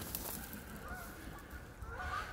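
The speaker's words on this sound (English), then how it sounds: "You see the geese." Geese honk repeatedly in the open near a creek in wooded backcountry, the calls fairly faint and distant over steady outdoor background noise, with no talking.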